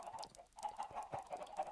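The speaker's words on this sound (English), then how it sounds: "which is now invaded by chickens." Chickens cluck in a video game world overrun by them, a quiet, continuous string of short clucks and bawks in quick irregular succession.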